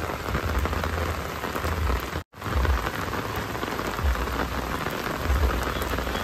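Steady rain pours at Jhakri Falls Park in Gangtok, a dense even hiss of drops on surfaces with soft low rumbles beneath, briefly interrupted by a sharp cut before continuing unchanged.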